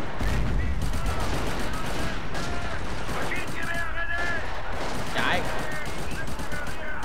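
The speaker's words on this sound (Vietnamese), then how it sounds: "nó tập trung cối, nó bắn kinh quá" Mortar and gunfire in Company of Heroes during a custom battle, a continuous loud barrage of rattling shots and thumps with a voice speaking briefly over it.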